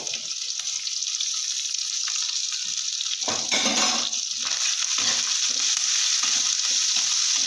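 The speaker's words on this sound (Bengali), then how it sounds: "পেঁয়াজ আর ওই গোটা রসুনগুলো দিয়ে দিলাম একটু ভাজা ভাজা করে নেব সুন্দর করে" Onion and whole garlic cloves fry in hot oil in a home kitchen pan, a steady close sizzle with a louder burst of crackling midway as the pieces are stirred.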